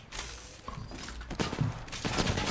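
Gunfire bursts crackle in the Apex Legends shooter game, a series of sharp shots and clustered volleys mixed with faint game effects.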